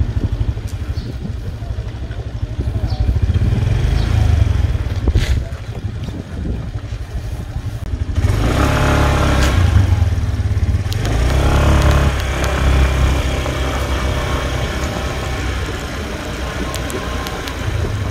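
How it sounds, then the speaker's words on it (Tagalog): Many motorcycles idle and pass near a warehouse, giving a loud, continuous engine drone that swells as bikes go by, roughened by wind noise on the microphone, with no clear talking. "Daming motor oh."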